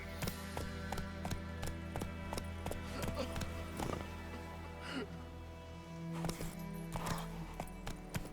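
Geralt's horse Roach galloping in The Witcher 3, with a rapid run of sharp hoof clip-clops, a whinny partway through and a low ambient hum underneath.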